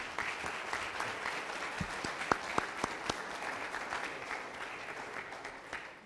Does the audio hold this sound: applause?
yes